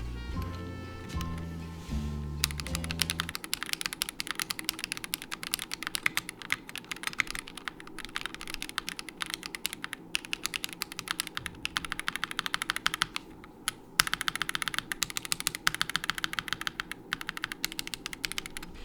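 Rapid, continuous clacking of a custom CK650 65% mechanical keyboard being typed on, uneven clicky keystrokes close up, following a short bit of music at the start.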